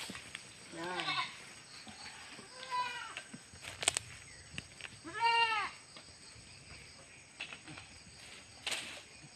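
Goats bleat several times in a pen, with a few wavering, close calls spread across the stretch over a hum of background noise and faint voices.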